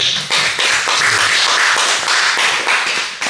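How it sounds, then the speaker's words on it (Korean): A church congregation claps in a strong, steady burst of applause during a sermon, with a few rhythmic pulses in the clapping. "박수 한번 해주시고"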